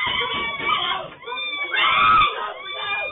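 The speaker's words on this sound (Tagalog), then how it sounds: "Dinig mula sa loob ng bahay ang sunod-sunod na sigaw na humihingi ng saklolo." A person screams repeatedly for help from inside a house during a neighbour's stabbing attack. The cries are loud, strained and close together, over about three seconds.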